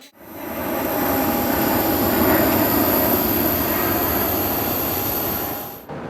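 An airliner being pushed back at Gimpo Airport, a steady, loud jet-engine roar and whine that holds evenly for about six seconds before cutting off, with no voices.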